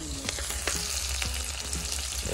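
Chopped onion sizzles in hot oil in a pot, the first step of an iguana curry, producing a continuous close frying hiss with a few sharp clinks and stirring knocks scattered through.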